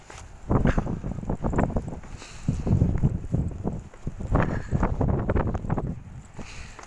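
Strong wind gusts outdoors on a walk near a golf driving range and ancient burial mounds. Irregular, rushing bursts of wind buffet the microphone, swelling and fading throughout.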